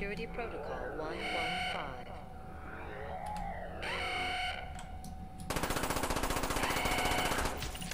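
Automatic gunfire in a COD Zombies game rattles out as a long rapid burst near the end, loud and continuous, after stretches of game effects, with a player talking over it.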